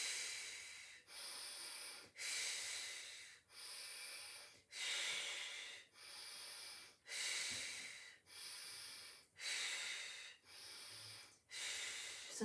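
A person doing the Pilates hundreds exercise breathes in a steady, rhythmic pattern, about ten forceful hissing breaths close to the mic, alone with no talking.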